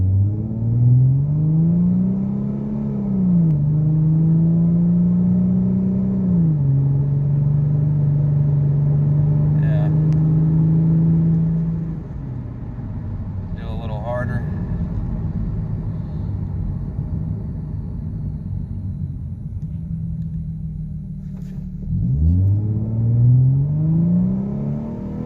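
A 2014 Ford Mustang with a 3.7 V6 and altered shift settings drones steadily as it accelerates. Its engine note rises and then drops with each gear change, sounding loud and close throughout.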